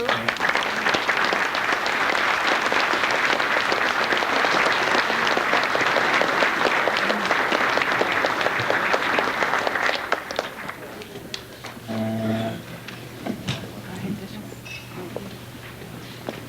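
An audience at a Hall of Fame induction ceremony applauds steadily and densely for about ten seconds, then the clapping thins out to scattered claps with a brief voice over the hall's hum.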